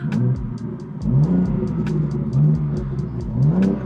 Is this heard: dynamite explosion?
no